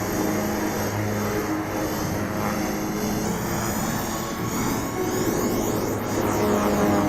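A simulated Beechcraft King Air 350 turboprop rolls out after landing in X-Plane 12, with its propellers in beta giving a steady, loud, droning engine and propeller roar that holds throughout, with no talking.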